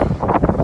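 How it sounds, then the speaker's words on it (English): Strong wind gusts outdoors beside a pickup truck, a brief burst of roaring, buffeting microphone noise with no voices. "It's very windy out, but you should be able to hear me okay."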